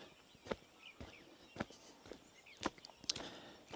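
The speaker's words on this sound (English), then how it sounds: "we can vaguely hear the horses clip-clopping up the hill" Sharp, irregular thuds of distant horses' hooves clip-clopping uphill on a path come through a quiet outdoor scene in Yunfu, China, with faint birdsong.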